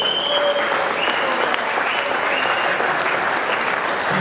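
An audience in a hall applauds steadily to welcome the new German light-heavyweight boxing champion at the award ceremony, a dense sustained clapping with a voice faintly underneath.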